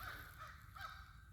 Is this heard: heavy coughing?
no